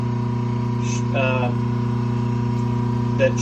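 A 10 horsepower idler motor on a three-phase converter hums steadily with a strong, even low electrical drone, while a voice speaks briefly over it.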